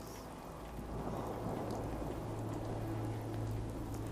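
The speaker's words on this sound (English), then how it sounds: "Hope this rain lets up soon." Steady heavy rain pours throughout with a low rolling thunder rumble underneath in the video game Fallout 4, continuous and dense with no voices.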